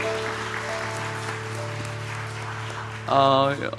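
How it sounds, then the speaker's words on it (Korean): Church congregation at a youth retreat worship service applauding, a steady broadband wash of clapping over sustained musical tones and voices, swelling louder near the end. "우리 큰 박수로 서로를 격려하겠습니다."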